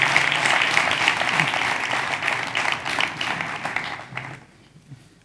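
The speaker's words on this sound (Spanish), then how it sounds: "Un fuerte aplauso," An audience at an award ceremony gives a sustained round of applause, dense clapping from a crowded hall that thins and fades out near the end.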